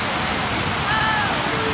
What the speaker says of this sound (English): It's the water wall.